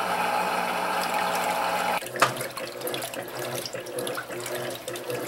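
Electrolux Silent Control 12 kg top-load washing machine filling with water for its first rinse at the high duvet level, a steady gushing water flow that shifts to a louder, splashier rush partway through, with no talk.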